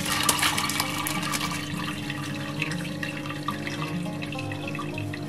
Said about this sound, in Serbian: Sipat ćemo zatim svu tečnost.